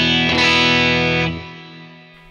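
Distorted electric guitar chord through a modulation effect on a Fender Tone Master Pro, loud and close, ringing out with a swirling, chorus-like shimmer before slowly decaying.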